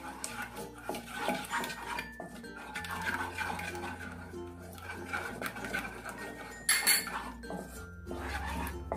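A spoon mixing honey in a bowl for an Ayurvedic cold and cough remedy, giving faint close clinks and scrapes of metal on the bowl under a person talking quietly.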